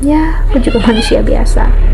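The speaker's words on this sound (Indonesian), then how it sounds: "Itu kucing aku main ya," A pet cat meows at play while someone talks steadily over it in the foreground, the mewing close by and partly blended with her voice.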